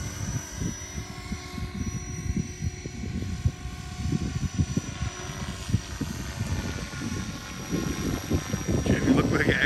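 An Align T-Rex 470 RC helicopter flies nearby, its rotor producing a steady chopping thrum with a thin high motor whine, while people talk over it.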